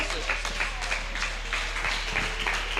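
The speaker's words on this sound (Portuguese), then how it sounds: "Palmas para Jesus." A church congregation claps in praise of Jesus, a steady rhythmic burst of many hands beating together in a regular pulse, heard fairly close over a continuous low hum.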